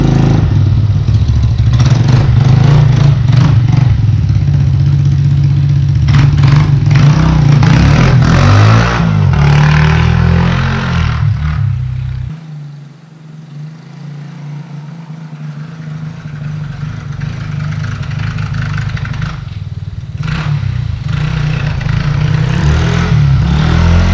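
A trike's engine runs steadily on a freshly fitted carburetor, loud and close, with mechanical clatter and a rough drone. Midway it drops briefly in level, then climbs back up to a steady run.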